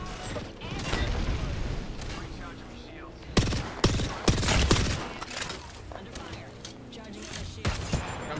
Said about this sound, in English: I'm shooting at nothing.